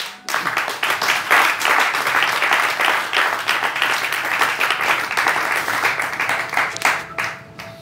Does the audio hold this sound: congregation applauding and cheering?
yes